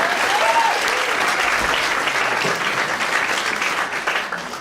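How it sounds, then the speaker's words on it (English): Audience applause at an improv comedy show, a dense, steady wash of many hands clapping that holds loud for nearly five seconds, with a few voices and a whistle-like tone briefly rising over it early on. "big round of applause for all that game"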